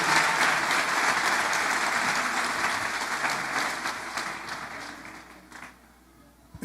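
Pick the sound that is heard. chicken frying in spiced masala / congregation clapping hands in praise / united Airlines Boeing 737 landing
congregation clapping hands in praise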